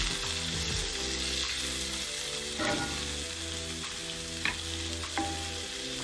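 Mackerel curry sizzles and fries steadily in a pan while it is stirred, with a constant loud crackle, a low steady hum underneath and a few sharp clinks of the utensil against the pan.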